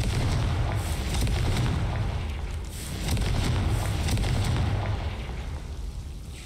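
A Confringo fire spell blasting in Hogwarts Legacy gameplay, a heavy booming explosion with a deep rumbling roll that holds for several seconds, loud and close.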